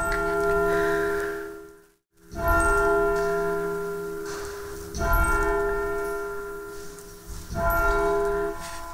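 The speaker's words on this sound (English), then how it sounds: "The bell rang at 12 noon when the monks entered the church to recite the Divine Office" Church bell at Belmont Abbey, an English Benedictine monastery, tolls at noon, sustained ringing tones with humming overtones, a brief dip in the middle before the strokes resume, heard alone without voices.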